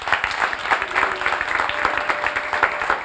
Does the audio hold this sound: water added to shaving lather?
no